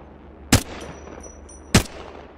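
Two sharp, loud single shots from a Flatline rifle in Apex Legends, spaced just over a second apart, each a crisp crack with a brief tail over quiet background hum.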